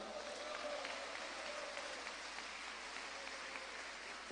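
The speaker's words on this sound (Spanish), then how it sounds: "¿Cuántos dan un aplauso al Señor?" Applause from a congregation at an evening sermon comes as a faint, continuous wash of many hands clapping, distant and even, with no one speaking over it.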